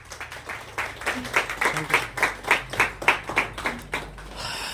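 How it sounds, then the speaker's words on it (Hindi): Loud applause and clapping at an Indian corporate incentive event, rhythmic bursts of many hands building to steady near beats, then fading out at the end. "एक बार जोरदार तालियों के साथ"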